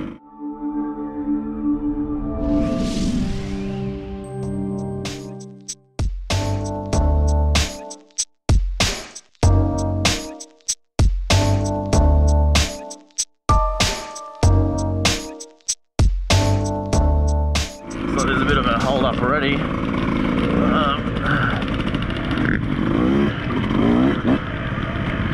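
Beta 200RR dirt bike ridden on an off-road race sighting lap, engine loud and close with rapid revving bursts and gear changes, choppy throttle blips in the middle, then a steadier rough drone with wind noise.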